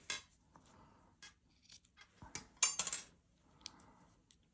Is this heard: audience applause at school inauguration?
no